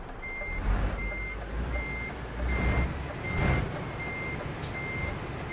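Reversing alarm on a DAF XF 510 truck in Euro Truck Simulator 2, a steady run of evenly spaced beeps over a low engine rumble as the truck backs up to a dock.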